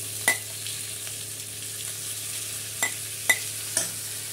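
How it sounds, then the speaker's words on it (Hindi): Tomatoes frying in a pan for a Hyderabadi okra and chicken sherwa, heard as a soft steady sizzle with a hum underneath and a few distinct clanks of the stirring spoon, close by, with no talking. "ये टमाटे डाल के इसको अच्छी तरह भुनेंगे।"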